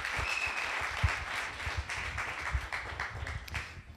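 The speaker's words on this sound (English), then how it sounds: "please give a huge round of applause for Damien" Audience applause for a CEO giving a talk on scaling team culture, a steady broadband patter of many hands clapping throughout, fairly close and continuous with a few sharper individual claps.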